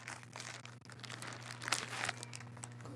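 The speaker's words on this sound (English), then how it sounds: "let's get our knife out. Let's cut this open." A knife slices through sealed plastic wrap on a Mackie ProFX12 v3 mixer, making close, crisp crinkling and tearing rustles with a few sharper scratchy bursts over three seconds.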